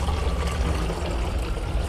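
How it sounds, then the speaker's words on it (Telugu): Water pours steadily into a sprayer can being filled with a rice water compost solution, a continuous close trickling gush with no speech. "నేను వాటర్ వేస్తున్నాను"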